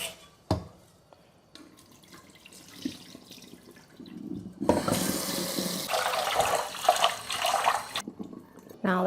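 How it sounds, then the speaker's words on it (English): Rice is rinsed under running tap water in a kitchen sink. Early clinks and handling give way to a loud gush of water with swishing and splashing, then the flow stops abruptly. "Rinse the rice with water a few times until the water runs clear."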